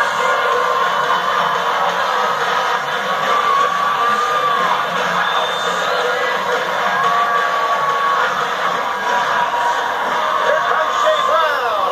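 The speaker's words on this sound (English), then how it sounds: "And getting a big reception by the crowd" Roller derby arena crowd of the Illinois Riot bout roaring, whooping and cheering as the two teams take the track, a loud dense wall of yells and shouts sustained throughout with no break.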